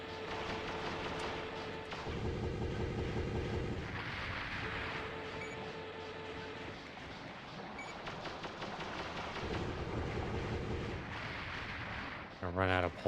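Rapid pulse rifle fire from a mech in Armored Core, a dense continuous stream of weapon bursts with booming impacts throughout, loud and sustained, ending in a brief sharp sweeping burst.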